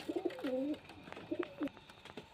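A male pigeon gives two close, soft, gurgling coos, each a short rolling phrase, with a quiet pause between them.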